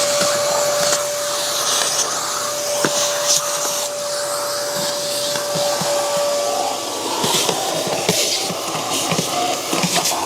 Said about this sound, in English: I'm going to give this a good vacuum out